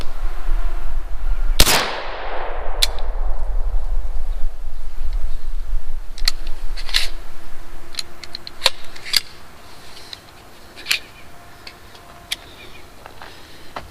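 A single loud gunshot from a Glock pistol fed by Korean-made magazines, a sharp crack with a decaying echo, followed by quieter clicks and handling knocks.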